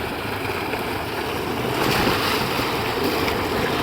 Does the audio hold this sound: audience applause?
no